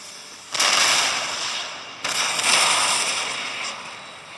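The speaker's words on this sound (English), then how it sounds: "we'll watch this next salvo come in here" Two loud musket salvos crack out in Empire Total War, each a broad crackling volley of many guns at once, the second following about a second and a half after the first, with a rattling tail.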